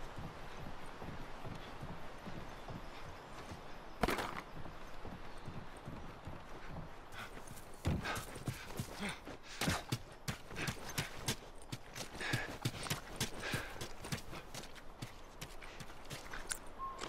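Horse hooves clip-clop steadily in The Last of Us, a run of close, even hoofbeats over a constant windy outdoor background, with a few sharper louder strikes along the way.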